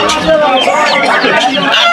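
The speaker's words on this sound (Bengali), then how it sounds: "তাদের পালিত হাঁস মুরগিগুলো আছে সেগুলো কিন্তু এই যে নিয়ে আসছে" Domestic chickens and ducks cluck and squawk at a village poultry and vegetable market in Jhenaigati, Sherpur. Short, loud calls overlap with nearby chatter.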